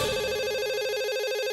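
A telephone rings continuously, a loud, steady warbling electronic tone alternating rapidly between two pitches, heard alone without voices.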